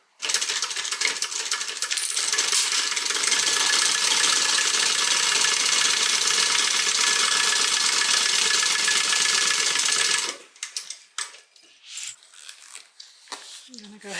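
A sewing machine runs continuously for about ten seconds, stitching a half-inch seam on a crossbody bag with a dense, rapid mechanical chatter, then stops, leaving scattered handling clicks.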